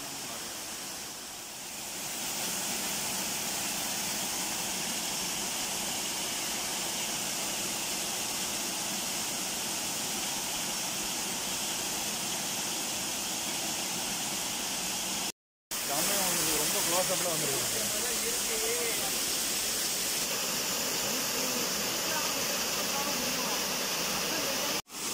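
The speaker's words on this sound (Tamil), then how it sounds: "இந்த அருவியே சூப்பராக இருக்குது." A waterfall near Courtallam gives a loud, steady broadband rush of falling water that runs through the whole stretch, with a brief break near the middle. Faint voices sit under the roar.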